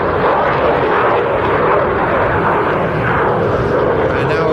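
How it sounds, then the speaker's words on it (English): A canard delta-wing jet pulls up into a loop at the Ayr air show, a loud, steady, dense engine roar with no break throughout. "pitches the aircraft up into a loop"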